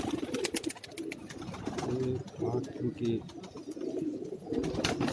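Pigeons coo on a rooftop pigeon loft in Karachi, soft rhythmic low calls repeating in the background while someone talks over them and wings flutter briefly.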